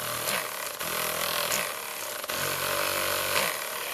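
Battery-powered vibration massager running at maximum power, a loud continuous buzzing drone with slight pulsing surges about every second, close and steady with no talk.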